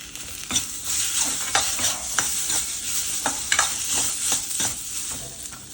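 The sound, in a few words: tomato frying in a pan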